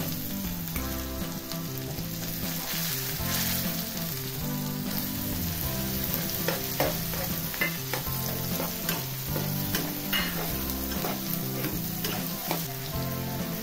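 Chopped tomatoes hit a pan of frying drumstick masala with a steady, loud sizzle. Stirring scrapes and spatters sound through it, close and continuous with no voices.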